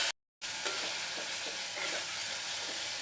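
Masala with tomato ketchup and a splash of water sizzles in a pan while being stirred for street-style ghugni. After a brief silent gap, a steady, close hiss runs on with soft rhythmic scrapes of stirring.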